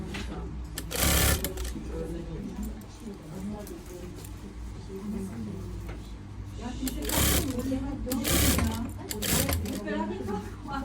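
A sewing machine stitches a zippered lining in bursts that run steadily for several seconds at a time, close and fairly loud. Turkish speech is heard between and over the runs.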